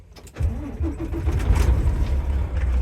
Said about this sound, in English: then we're gonna start the vehicle